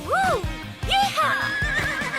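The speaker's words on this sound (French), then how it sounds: "Maintenant, Shani, j'espère que tu es prête à galoper un peu." Cartoon horse gives several high, wavering whinnies in quick succession while galloping hooves clip-clop rhythmically beneath, close and fairly loud.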